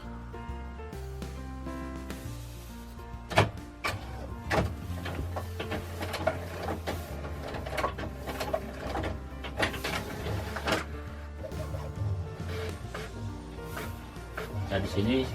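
A printer runs through passport application documents, whirring and clacking in uneven mechanical bursts close by, under steady talk.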